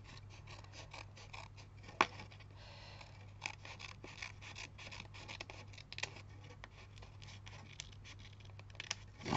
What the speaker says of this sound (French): je vais découper ce qui dépasse